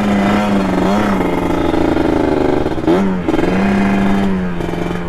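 A Kawasaki Ninja motorcycle engine revs loud and close, its tone climbing and dipping through several throttle blips over a steady idle, with no talking.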